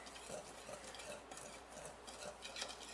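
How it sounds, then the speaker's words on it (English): Cornbread batter ingredients being stirred together in a bowl, a quiet repeated scraping and swishing with light utensil clicks at an uneven rhythm, close by and without talk. "So now I'm going to mix it up, right? Mix up the ingredients together here."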